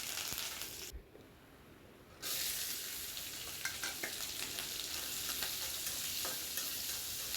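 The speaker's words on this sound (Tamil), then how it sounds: "கருவேப்பிலை, வெங்காயம், பச்சை மிளகாய் எல்லாம் போட்டு நல்லா வதக்கி எடுத்துக்கலாங்க" Curry leaves, onion and green chili sautéing in hot oil for a banana-flower stir-fry, a steady close sizzle that briefly drops away near the start and then returns loud with small crackles and pops.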